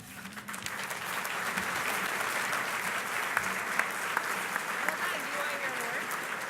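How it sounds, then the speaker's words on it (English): Steady audience applause at a luncheon session of a mobility summit, dense clapping sustained evenly throughout, moderately distant with a few sharper claps near the end. "Let's give Barry another round of applause."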